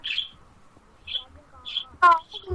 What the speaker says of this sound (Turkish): Kuş sesi geliyor mu Furkan?